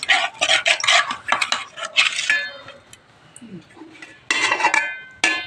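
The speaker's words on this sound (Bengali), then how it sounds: "তোমাদের দাদাভাই বিরিয়ানিটা এবারে সাজাচ্ছে, ভাত দিচ্ছে, তারপরে মাংস আলু ব্রেস্ট দিচ্ছে" A serving spoon scrapes and clinks against a metal pot while cooked rice and meat with potatoes are layered into homemade biryani, with repeated close metallic scraping in bursts and brief pauses.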